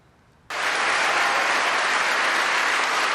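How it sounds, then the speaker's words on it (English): After a brief quiet moment, applause erupts suddenly for Pope Francis among Kazakhstan's Catholic community, then holds as a full, steady roar of many clapping hands. "Pope Francis met with applause on his final day in Kazakhstan."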